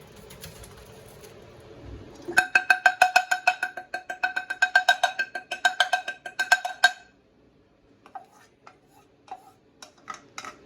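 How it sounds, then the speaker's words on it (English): Rapid metallic knocking on a cooking pot to loosen rice grains, a fast burst of ringing taps for several seconds, then a few scattered lighter knocks after a pause. "so that I can knock loose"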